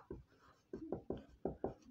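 Chalk or a marker strikes a board in short, scratchy strokes, six quick taps and scrapes in an uneven rhythm, close but quiet, with no talking.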